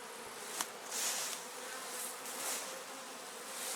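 Honey bees swarm and buzz around an open hive after being blown off the frames during honey harvesting, a steady, moderately near drone with swelling and fading waves and one brief click.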